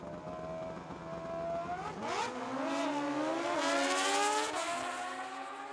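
Drag racing cars launch side by side down a strip at Tucson Dragway, engines roaring loud and steady with rising pitch sweeps as they accelerate hard, one car spinning its tire early in the run.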